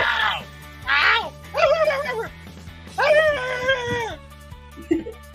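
Several dogs whine, whimper and yelp in long, rising and falling cries, loud and close, with short gaps between bursts; people talk in the background.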